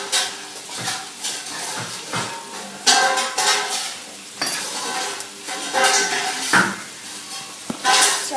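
Pan shifted and turned on a stovetop while lasagne cooks, with steady sizzling and frying hiss throughout, punctuated by several scraping and clattering knocks of the pan and utensils, close by and moderately loud with no talking.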